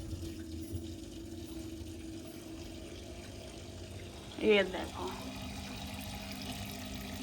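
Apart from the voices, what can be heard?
small decorative indoor water fountain running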